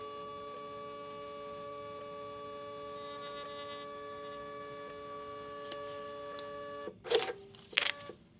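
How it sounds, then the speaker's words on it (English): A Brother QL-800 label printer prints a label with a steady, even electronic whine lasting several seconds, then a short burst of clicks and mechanical clatter near the end. "And then out comes our label there"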